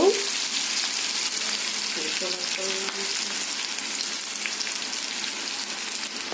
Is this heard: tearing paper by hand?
no